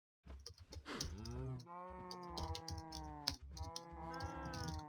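Cattle lowing in Minecraft: several drawn-out, harmonic moos follow one another across the clip, loud and close, over a faint tapping like keyboard clicks, with no talking.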